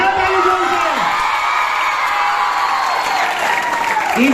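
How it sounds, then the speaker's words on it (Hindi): Loud crowd applause with cheering and children's shouts at a Republic Day prize-giving event for young students, steady throughout, with voices calling over it. "बजाओ ताली जोर से।"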